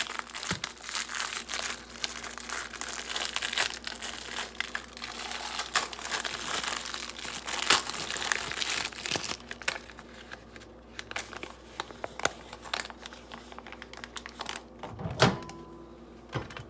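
A small Pop Secret popcorn bag is crinkled and crumpled near the microphone, producing dense, continuous crackling that thins out toward the end, with a louder rustle near the finish.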